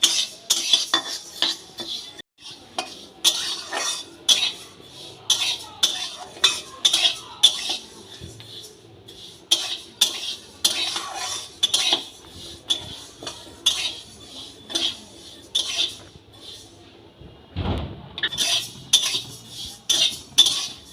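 Moong dal being dry-roasted in a kadai, the spoon stirring it in repeated scraping bursts with metallic clinks against the pan, steady and close, with no talk.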